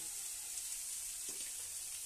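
Spice paste with turmeric frying in a pan for a Bengali small-fish curry gives a steady, close sizzle that holds evenly throughout, with a faint stirring scrape near the end.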